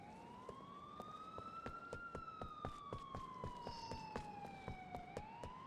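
A police car siren in the video game GTA IV wails in slow rising and falling sweeps, steady and fairly faint, with rhythmic clicking game sounds underneath.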